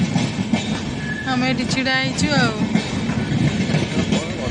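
Train passing at a level crossing, a steady rumble with a brief high wheel squeal partway through, close by, heard under people talking.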